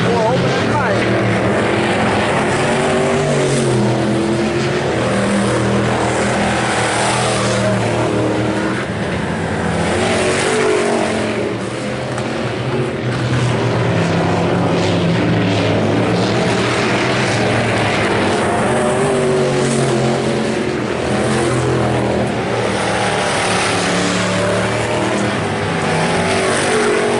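IMCA Hobby Stock race cars roar around the dirt oval at Concordia Raceway on opening night, a loud continuous engine drone rising and falling as the pack passes, with an announcer talking over it throughout.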